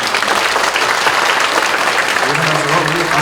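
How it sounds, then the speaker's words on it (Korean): A church congregation at an elder ordination thanksgiving service bursts into loud, sustained applause that fills the room, with a voice talking over the clapping toward the end. "박수 한번 하도록 하십시오"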